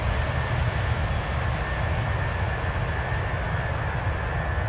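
Steady loud jet engine roar of a Fenix A319 airliner with IAE engines in Microsoft Flight Simulator, a continuous broadband hum and rumble heard alone and unchanging throughout.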